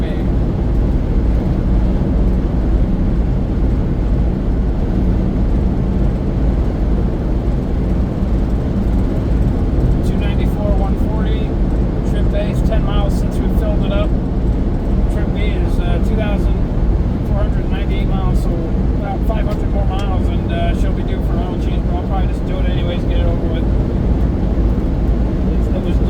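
A black V6 five-speed Toyota Camry with a newly finished quiet exhaust cruises steadily, its engine and road drone filling the low end continuously while people talk over it throughout.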